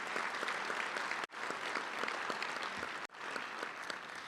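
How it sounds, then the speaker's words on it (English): A room of club members at a Touchdown Club luncheon gives a round of applause, with moderate, steady clapping and distinct individual claps heard at a modest distance, continuing across two brief cuts. "let's give our Touchdown Club team a round of applause for the work they do"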